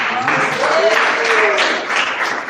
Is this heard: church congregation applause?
yes